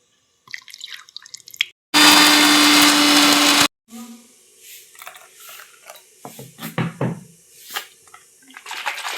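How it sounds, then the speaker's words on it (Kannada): An electric mixer grinder whirs loudly for about two seconds, blending raw mango pieces with a little water in a mixie jar, set between softer kitchen clatter and dripping. "ಮಿಕ್ಸಿ ಜಾರಲ್ಲಿ ಹಾಕಿ ಗ್ರೈಂಡ್ ಮಾಡ್ಕೊಂಡ್ರೆ ಆಯ್ತು"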